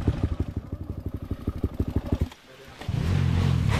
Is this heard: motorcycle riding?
yes